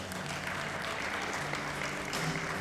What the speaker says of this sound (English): How about a big round of applause for our Bantamweight competitors?